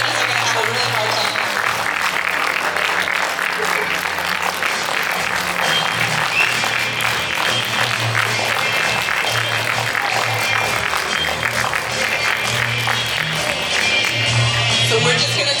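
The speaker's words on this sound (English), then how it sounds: "Let's give them all another round of applause." A casino audience at a pin-up girl pageant in Bowler, Wisconsin applauds continuously, a dense, steady clapping with crowd noise that stays loud and even throughout, with voices mixed in.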